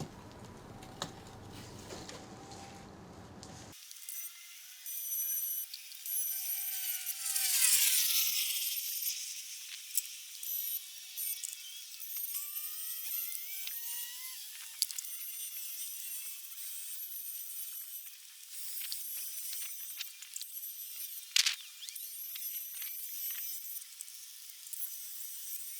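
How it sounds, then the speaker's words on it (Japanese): A sanded scratch on a car bumper is hand-polished during a DIY repair. A short burst of dense rubbing noise gives way to quieter, intermittent squeaks and faint scuffs that continue for the rest of the clip. "だいたい研げたので磨いていきます。"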